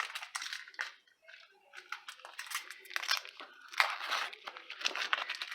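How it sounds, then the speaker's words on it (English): Papery skin being peeled off an onion, with faint close crinkling, crackling and tearing in irregular short bursts and quiet gaps between them. "Peel this onion here."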